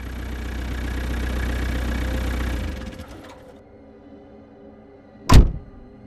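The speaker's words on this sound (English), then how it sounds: "the engine finally cut off, and right after that I heard a car door close" A car engine idles with a low, steady rumble for a few seconds, then cuts off into near silence, followed by a single sharp thud of a car door shutting.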